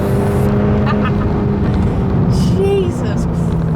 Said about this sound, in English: So I've been kind of going up to speed, braking really hard.